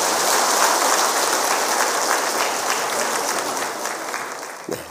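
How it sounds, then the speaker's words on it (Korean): Warm congregational applause during a Sunday church service, a dense, steady rain of clapping from many people that tapers slightly before ending. "뜨거운 박수로 우리."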